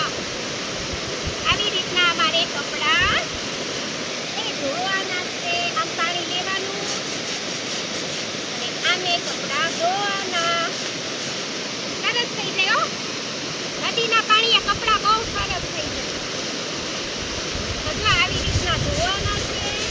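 River water rushes steadily at a dam while clothes are washed by hand, a continuous broadband roar under someone talking throughout, with occasional splashes.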